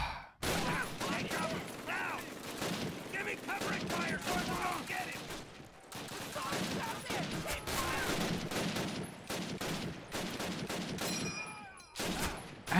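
Machine gun fire in Call of Duty: United Offensive, bursts of rapid shots and scattered battlefield gunfire running throughout, loud and close, with a player talking over the chaos.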